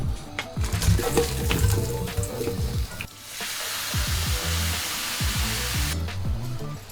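Chilies and other consomme ingredients for grass-fed beef birria toast in a pan with a loud, steady sizzle, broken by scraping stirs and a brief dip before the frying hiss swells again.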